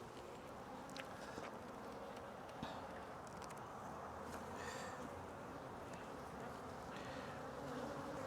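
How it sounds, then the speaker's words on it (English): Honey bees buzz steadily inside a packed hive box during a spring inspection and split, a dense, continuous drone close to the ear, with faint rustling and handling noise scattered through. "that's a packed box of bees"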